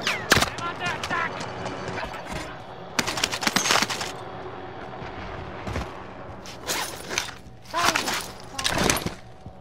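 Game gunfire in Call of Duty cracks out in several sharp bursts and volleys scattered across a multiplayer match, loud and close, separated by quieter stretches.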